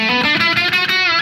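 A brief burst of distorted electric guitar from a custom '58 Stratocaster, a buzzing sustained chord ringing loud and close for about a second.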